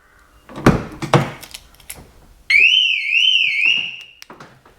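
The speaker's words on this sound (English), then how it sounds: "The alarm does work when you open the door" On a VW Golf Mk5 TDI with a faulty door lock, two loud door handling thunks are followed by the car alarm's warbling electronic siren, close and sustained for about two seconds before cutting off.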